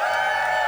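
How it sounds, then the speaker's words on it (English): A live concert crowd at the Into The Great Wide Open festival cheers as loudly as it can, a dense, sustained roar of voices and whoops filling the whole moment. "Everybody cheer as loud as they can"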